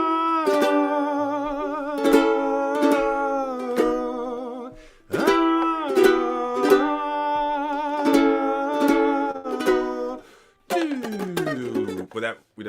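Ukulele strums chords from a song, rhythmic repeated strummed chords in bursts with brief pauses, ending in a quick descending run; close and alone.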